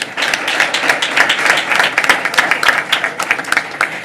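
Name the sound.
audience applause at board meeting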